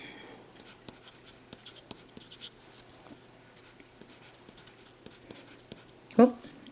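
Pencil scratching on paper while working a chemistry stoichiometry calculation, a run of short irregular strokes and taps close up, steady and fairly quiet throughout, with a louder scrape near the end and no one talking.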